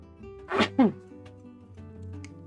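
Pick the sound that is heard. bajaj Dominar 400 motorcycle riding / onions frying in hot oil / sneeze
sneeze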